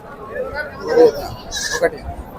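Goats bleat close by at a livestock market in Pebbair, a couple of wavering cries over background talk and farmyard noise.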